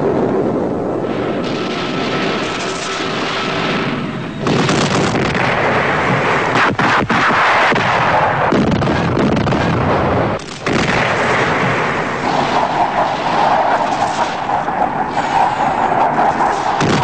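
Long-range artillery fires during a large army field exercise, heavy booming blasts landing one after another with ragged rumbling tails, loud and close over a constant windy wash.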